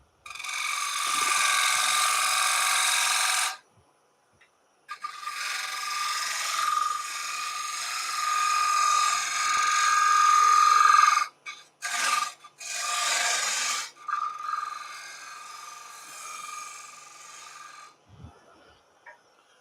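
A small gouge cutting a wooden bowl on a spinning lathe, giving loud, sustained rasping cuts in several separate passes with short pauses between them and no talk.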